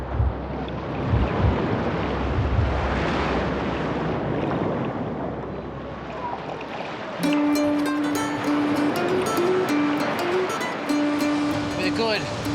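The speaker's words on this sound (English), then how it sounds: "6 to 8 foot northeast swell, wrapping around the corner. All the water comes in here, and it's all going out that little gutter." Ocean surf from a 6 to 8 foot northeast swell breaks at Bondi Beach, a loud, continuous roar of crashing water. About halfway through it gives way to wind noise and a steady humming tone.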